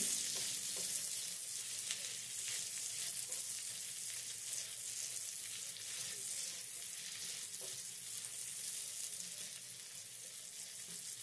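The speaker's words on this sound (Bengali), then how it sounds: "এবার লবণকে ক্যাপসিকাম আর পেঁয়াজের সাথে খুব ভালো করে নেড়েচেড়ে মিশিয়ে নিতে হবে।" Capsicum, onion and salt being stirred in a hot frying pan, a continuous close sizzle broken by scraping and clinking strokes of the spatula at irregular intervals.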